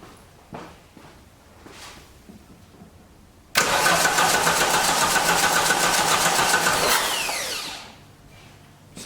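A 1989 Dodge Daytona engine cranks without firing, with a steady whirring starter drone that runs about four seconds and then stops. Quieter background noise comes before and after.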